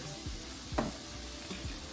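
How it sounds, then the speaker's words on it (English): Seasonings for a shrimp boil, including lemon pepper, frying in a pan as a steady, fairly quiet sizzle with a few soft stirring knocks near the cook. "So you want to just fry this up."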